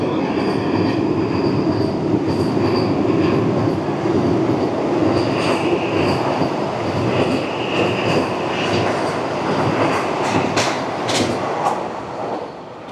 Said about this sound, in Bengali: বেরিয়ে গেল পুরী হাওড়া বন্দে ভারত